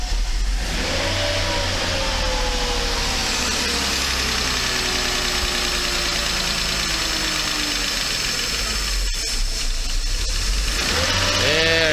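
A Mercedes 500E W124 under restoration cranks and fires up, its engine rumbling steadily, then revving in rising and falling sweeps, loud and close throughout, with a brief cut near the end.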